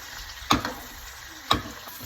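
A steak sears in a hot pan with a little olive oil, giving a steady close sizzle broken by two sharp clicks about a second apart.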